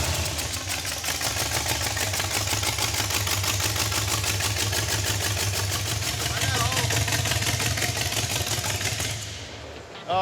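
Car engine idling low with its valve covers off, a steady rapid mechanical clatter and chuffing pulse close by for most of the clip before cutting out near the end.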